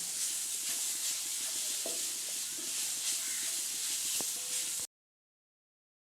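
Grated coconut roasts with ghee and cornflour in a pan over low heat, a steady soft sizzle with faint scraping stirs and occasional light clicks, then sudden silence.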